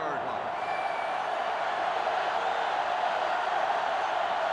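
Sellout stadium crowd in a college football video game, a dense, steady roar of massed voices filling the background under continuous commentary.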